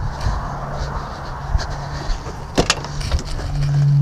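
Electric windows on a classic V8 Ford F150 5.0 pickup hum open close by, a steady low motor whine with a few clicks, swelling louder near the end.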